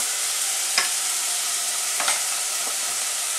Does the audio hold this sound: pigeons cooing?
no